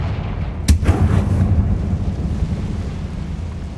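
A Confringo spell explodes in Hogwarts Legacy with one sharp, loud blast followed by a rumbling boom that fades away over a few seconds, with no talking.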